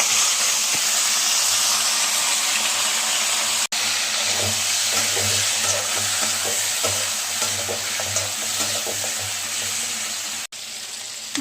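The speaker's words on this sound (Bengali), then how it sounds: "এখন এটা ভাজতে দিয়ে দিব কড়াইতে।" Chicken pieces, rubbed with salt and turmeric, frying in a kadai with cloves and cinnamon, giving a loud, steady sizzle with occasional stirring scrapes throughout, no talking.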